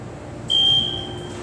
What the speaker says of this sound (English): The alarm bell's not that loud.